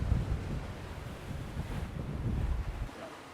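Wind gusting across a Seawind 1370 sailing catamaran offshore in about 17 knots, a loud continuous rumbling buffet on the microphone with a wash of sea noise, easing slightly near the end, no voices.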